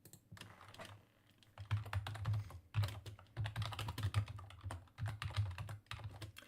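Rapid typing on a computer keyboard, with dense, uneven bursts of clicking key presses close by and no talking.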